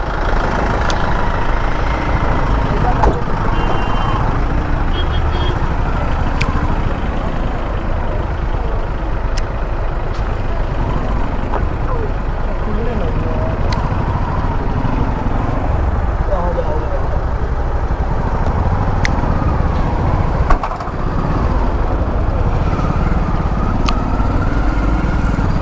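Engines idle and rumble steadily in a traffic jam on a mountain road, a dense, continuous drone of motorbikes and vehicles with occasional clicks, while voices talk underneath.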